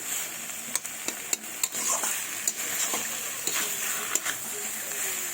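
Spices sauté with spinach stems and fish roe in a pan, a soft continuous sizzle broken by repeated sharp clicks of a spatula stirring and scraping at irregular intervals.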